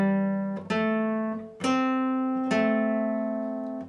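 Slow electric or acoustic guitar phrase from a song lesson: four picked notes at an unhurried pace, each ringing out and sustaining before the next, close and clear with no talking.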